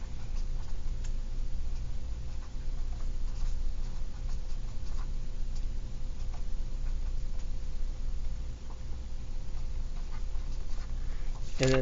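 A pen scratches on paper while a calculus assignment is written out, a faint, steady scratching and light tapping against a quiet background hum.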